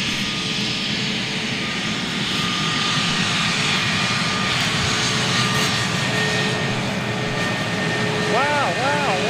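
Jet engines of an Airbus A321neo airliner at London Gatwick hum loudly and steadily with a tonal whine running throughout, while people talk over the noise.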